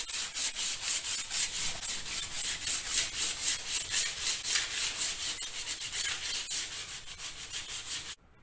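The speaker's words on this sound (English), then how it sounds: "with your sandpaper, just go over and brighten that wood up" Sandpaper rubs back and forth over wooden steps in steady, rhythmic strokes, a close, continuous scratchy hiss that goes on for about eight seconds before stopping abruptly.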